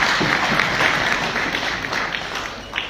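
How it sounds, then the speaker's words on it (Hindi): An audience at a direct-selling business training session claps steadily for a participant, a dense, even wash of applause lasting a few seconds. "जोरदार तालियां इनके लिए"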